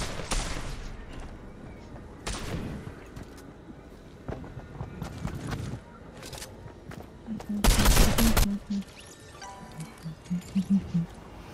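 Scattered bursts of gunfire in Fortnite, several sharp volleys separated by quieter stretches of game ambience and footsteps, with one louder burst near the middle; little talk over it.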